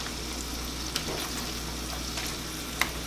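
Canned asparagus heats in a pan with a steady, soft sizzle and frying crackle throughout, a couple of faint clinks from stirring, and no voices.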